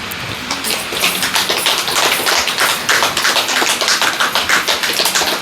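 A group of listeners at a Brahmakumaris spiritual course session claps together, a fast, dense, steady patter of hands heard close and fairly loud for several seconds.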